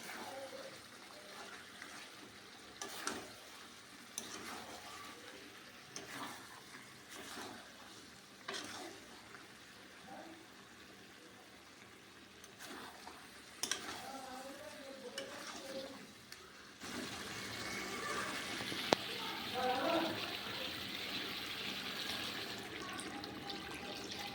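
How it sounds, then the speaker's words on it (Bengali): Pre-heated water is poured into a pan of chicken kosha curry, a low running splash and sizzle with scattered clinks, growing fuller and brighter toward the end. "গরম করে রাখা জল দিয়ে দেবো।"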